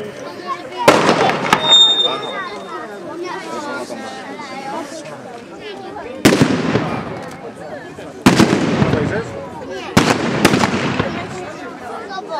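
Sharp, loud gunshot reports at a reenactment of a 1915 World War I battle near Bolimów, four distinct bangs spaced irregularly, each with a brief echoing tail over a steady murmur of crowd chatter in the open air.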